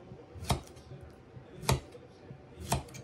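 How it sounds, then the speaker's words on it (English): A knife slices washed zucchini and yellow squash into thin rounds for a country vegetable pie, three crisp separate cuts landing about a second apart against a quiet kitchen background. "I'm just going to slice them in like some thin circles here"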